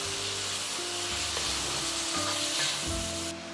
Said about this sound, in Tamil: இப்படியே நல்லா கொஞ்சம் ஒரு 5 to 10 minutes அப்படியே டாஸ் பண்ணோன்னா அந்த சிக்கன்